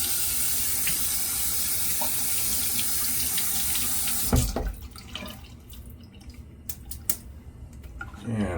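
A tap runs steadily as water wets a shaving brush, a full, close splashing stream for about four seconds that then cuts off, leaving scattered drips and small handling sounds.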